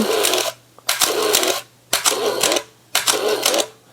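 Four evenly spaced shutter releases of a Pentax 645N medium format film camera loaded with 220 film, each a sharp click followed by a short mechanical whir of film winding, heard up close.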